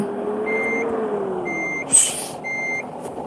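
Bus reversing beeps in Bus Simulator on a Bangkok to Phitsanulok route: three evenly spaced electronic beeps over a steady low engine rumble, with a short sharp air-brake hiss between the second and third beeps.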